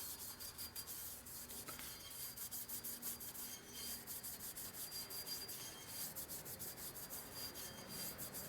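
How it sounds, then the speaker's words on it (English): Scrub pad rubbing rhythmically against a metal belt-drive clutch basket pulley coated with CRC lubricant, steady repeated back-and-forth strokes, close and quiet with no talking. "Put some more CRC back on there again. Go back to our scrub pad."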